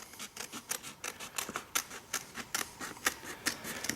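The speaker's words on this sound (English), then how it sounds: "So just take some scissors." Scissors snip through squirrel rawhide in a steady series of crisp, close cuts, roughly two or three per second, with no voices.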